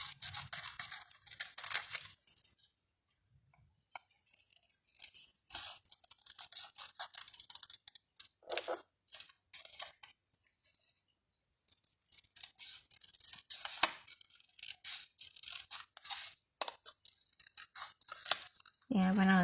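Scissors cutting straight lines through paper card, close and crisp, in bursts of rapid snipping and rustling separated by short pauses; a voice speaks intermittently.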